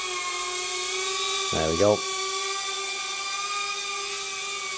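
A GEPRC Darkstar 22 drone flies indoors, its steady high whirring whine running throughout with faint harmonic tones and brief pitch sweeps as it maneuvers, while someone speaks briefly.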